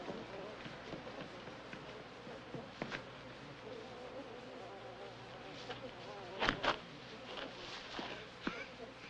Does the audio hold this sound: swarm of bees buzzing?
yes